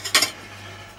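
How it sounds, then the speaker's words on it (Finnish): Washed dishes clink as they are handled and set down, two or three brief, bright, close knocks with quiet in between. "Laitetaan astiat tähän."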